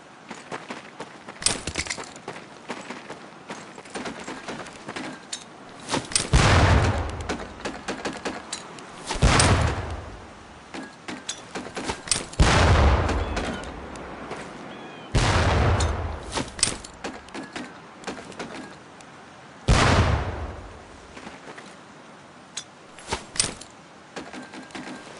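Training grenades bursting on a Marine boot-camp throwing range in the World War II shooter Medal of Honor: Pacific Assault, several loud booming blasts spaced a few seconds apart with scattered clattering debris and background noise between them.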